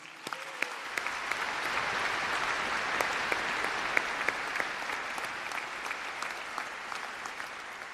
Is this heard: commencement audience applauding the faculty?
yes